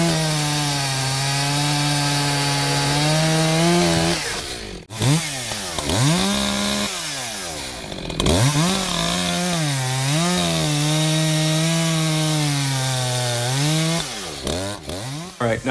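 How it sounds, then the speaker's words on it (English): An Echo chainsaw runs close up while its carburetor is tuned, a loud buzzing idle whose pitch swoops and revs repeatedly as the throttle is blipped. "When I tune the carb on this saw, I like to run it a little bit to get it up to temperature"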